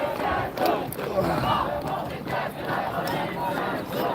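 Crowd at a protest against police abuse in Longueuil, many voices shouting and chanting together in continuous, fairly close waves of noise.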